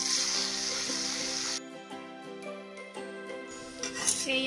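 Finely chopped onions fry in hot oil until lightly browned, a steady broadband sizzle strongest for the first second and a half, then continuing more softly under tonal background music.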